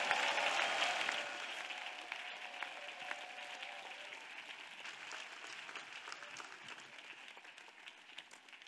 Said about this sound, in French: Yes, clap offering to Jesus.